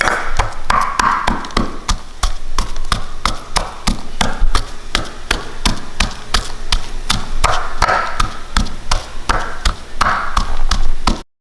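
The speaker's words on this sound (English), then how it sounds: "A teaspoon of garlic, a teaspoon of salt, and we are going to pound it." Garlic and salt are pounded in a mortar with a steady stream of sharp, close knocks, dozens of rapid strikes in an uneven rhythm, alone with no talk.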